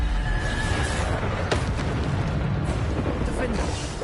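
Bombarda spell explosions going off in a video game, heavy booming bursts inside a dense, constant wash of battle noise, with a few sharper blasts standing out and a voice faintly underneath.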